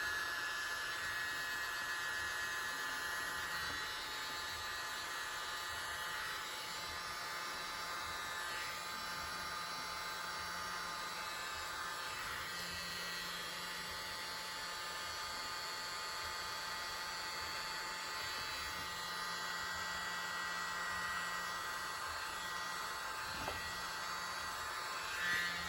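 Electric air blower running steadily on an acrylic paint pour for a copper bloom effect, a continuous close whirring rush of air with a faint hum, held for the whole stretch with no talk.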